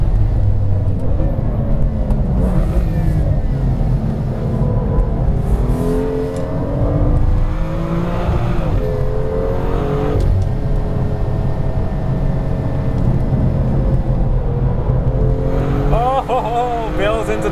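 A 2016 BMW M2 engine revs and pulls through a corner on track, the pitch rising and dropping as it shifts, loud and close throughout with someone talking over it.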